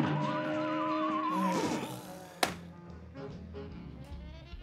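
A cartoon horse boss in the Cuphead video game neighs with a wavering whinny early on, followed by a sharp hit and busy game sounds, with no talk over it.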